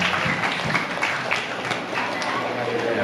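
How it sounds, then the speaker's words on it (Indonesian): An audience at a school literary seminar and poetry book launch applauds in a loud, dense wash of clapping that stays steady throughout, with crowd noise mixed in. "Tepuk tangan dulu dong buat kalian semua."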